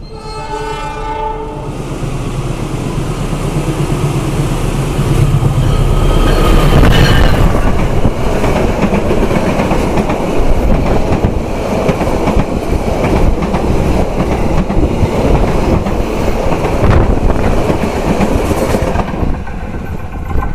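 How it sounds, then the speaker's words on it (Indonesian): The Wijaya Kusuma train passes straight through Kalisat station, a station with mechanical signals. A loud horn blast opens, then the heavy roar of the passing cars and rhythmic wheel clatter build and hold before thinning out at the end. "Mari kita lihat kereta api Wijaya Kusuma berjalan langsung di stasiun Kalisat."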